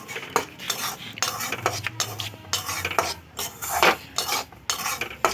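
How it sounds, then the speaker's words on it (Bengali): Semolina frying in ghee is stirred continuously in a pan, giving steady scraping, clinking spatula-on-metal strokes over a soft sizzle, close and fairly loud, with no talking. "সুজিগুলো কিন্তু আমি অনবরত নেড়ে নেব"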